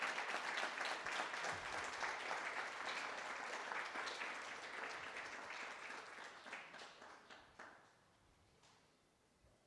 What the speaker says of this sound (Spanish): Denle un gran aplauso a nuestro Rey